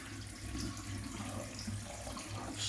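Water poured into a container during home dark fruit cider making, a steady continuous rush of liquid close by with no talking.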